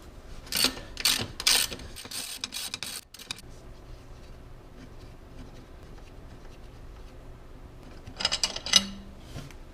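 Ratchet clicks from loosening a bolt on the transmission of a Porsche Boxster 986: two quick bursts of close, crisp ratcheting near the start, a quieter stretch of workshop hum, then another short burst near the end.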